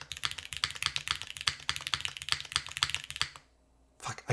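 Rapid typing on a mechanical keyboard fitted with GMK keycaps and a thick spacebar, a dense stream of close, crisp clacks with deeper thocks mixed in, a brief pause, then a few more keystrokes.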